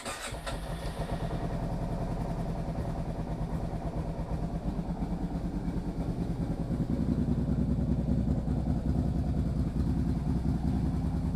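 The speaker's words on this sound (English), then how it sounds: "let's fire it up, see what happens. Let's see if I can give it a little gas here" A Kawasaki Prairie 700 ATV engine runs loud and steady after starting, its low rumble picking up as the throttle is blipped, then holding a strong, slightly rising revving drone to the end.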